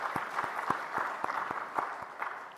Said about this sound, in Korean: 뜨겁게 박수로 우리 한번 위로하십시다.